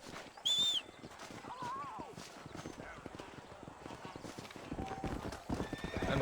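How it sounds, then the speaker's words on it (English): Horse galloping in the video game Red Dead Redemption 2: fast, steady hoofbeats close up with a sharp whinny near the start, continuing under ambient game sounds. "É, meu cavalo correu, hein?"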